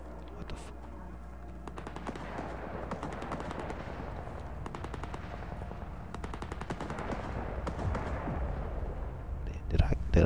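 Rapid gunfire from S.T.A.L.K.E.R 2: Heart of Chornobyl, bursts of automatic shots crackling continuously over a dense battle din, with a voice speaking briefly beneath it.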